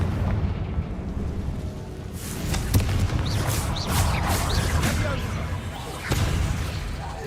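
Blasting-spell explosions in the fantasy game Hogwarts Legacy, repeated booming bursts over a dense, continuous battle din with sharp cracks near the middle and end.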